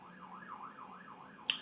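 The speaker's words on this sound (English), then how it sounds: "Siren." A wailing siren rises and falls in a quick repeating sweep, faint and distant, with a sharp click near the end.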